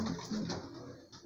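Pigeons in a home loft, including a mated pair, give soft low coos near the microphone, a few murmured calls over a quiet background with no talking.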